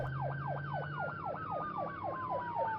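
An ambulance siren wails in a fast, regular up-and-down yelp, repeating about every quarter second over a lower steady tone, heard at moderate distance with no voices.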